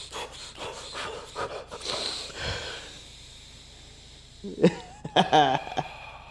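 Someone doing Wim Hof breathing technique: a run of forceful, rhythmic panting breaths and snorts up close, then a quieter stretch, with brief voiced sounds near the end.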